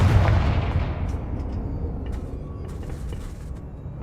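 A Confringo blasting spell goes off in the Hogwarts Legacy video game, a loud booming explosion with a heavy rumbling tail that slowly fades, close and dominant, with no talking.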